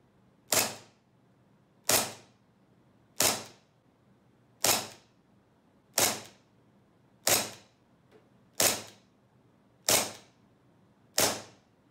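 Nine sharp, evenly spaced shots from an SRC SR-1911 full-metal CO2 blowback airsoft pistol, each a crisp crack with a short mechanical snap. They come about every 1.3 seconds, close and distinct against near silence.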